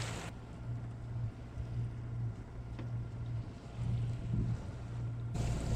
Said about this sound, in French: Il y a un peu d'air, un peu de vent,